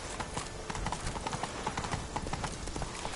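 Horse hooves galloping in The Witcher 3, a fast continuous clip-clop rhythm, close and moderately loud, running steadily throughout with no pauses.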